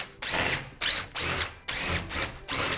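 A power drill spins out screws from the bottom retainer of a Wayne Dalton 9100 garage door in five or six short, loud whirring bursts separated by brief pauses.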